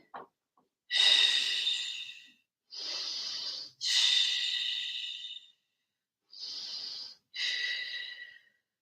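Slow, deliberate breaths during a yoga pose: five long, airy inhales and exhales spaced by short pauses, close and fairly loud, with no talking.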